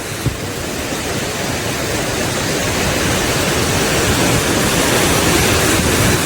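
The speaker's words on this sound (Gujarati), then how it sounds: "52 બારણાની ઉપરથી પાણી જાય છે" Water pours over the 52 gates of the overflowing Shetrunji dam in the monsoon, a loud, constant, broadband roar that holds steady throughout with no voices.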